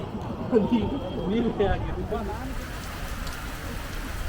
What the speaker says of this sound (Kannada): ಮಳೆ ಶುರುವಾಯಿತು ಮಳೆಯ ಸಿಂಚನ